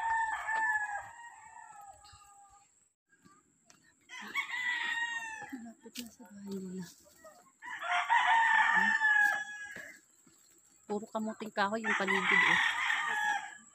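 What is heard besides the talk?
chickens clucking and crowing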